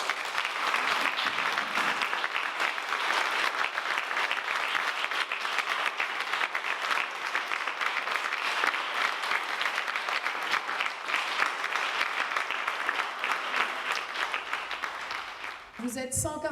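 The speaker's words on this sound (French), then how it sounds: "Vous pouvez tous vous applaudir." Graduates and families at a secondary-school graduation ceremony applaud themselves, a long, sustained ovation of many hands filling a large room, staying even and full before tapering at the very end.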